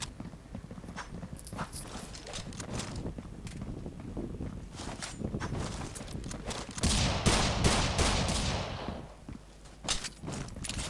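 Bursts of rapid gunfire from several guns ring out in a competitive team shooter match, with footsteps and mechanical clatter, and one dense, loud volley in the middle.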